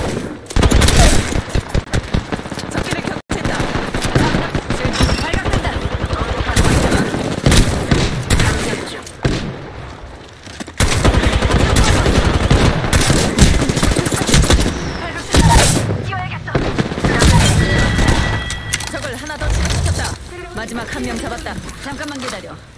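Sustained, loud automatic gunfire runs through a video game firefight as enemies are shot. Rapid bursts come with brief pauses and reload gaps, and game voice lines and effects are heard underneath.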